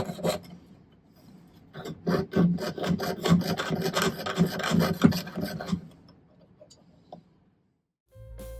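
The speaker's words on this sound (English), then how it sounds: "So let's go do some sawing." Steady rhythmic rasping strokes of a fine saw cutting silver, fairly close, speeding along for several seconds before stopping.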